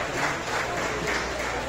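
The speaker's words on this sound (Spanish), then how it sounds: "También un gran aplauso por eso" Crowd applause at a presidential tour event in the highlands, honoring the producers, a dense steady wash of clapping that holds at an even level throughout.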